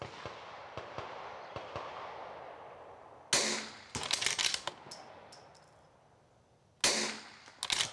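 Sharp, loud reports from a Bergara B14R rifle fired outdoors: one crack followed by ringing and clatter, then a second shot several seconds later, with faint background noise between.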